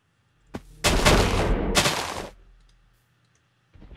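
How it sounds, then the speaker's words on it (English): Video game gunfire erupts in a dense burst of shots lasting about two seconds, loud and broadband, after a single sharp crack, then cuts off and fades to near silence before another noise starts at the end. "Liam, I heard gunfire."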